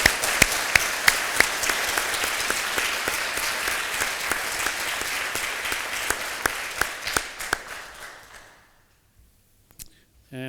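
Loud, sustained applause from an audience at an evening awards gala honoring two people, steady dense clapping for about eight seconds before fading to near silence, with a few scattered claps at the end.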